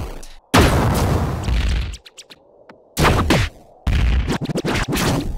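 Synthesized gunfire-like shooting effect made in the Serum soft synth, harsh noisy bursts that cut in and out abruptly, with short sharp crackling hits and rumbling tails; loud, close and with no talking.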